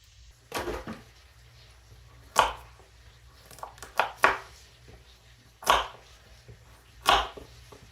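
Irregular knife chops strike a board as vegetables are cut, about eight separate thuds spaced unevenly, close and crisp against a quiet background, in a cabin.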